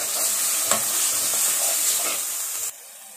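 Veg hakka noodles stir-fried with soy sauce and tomato ketchup in a pan, a steady close sizzle with scraping stirs that cuts off abruptly near the end.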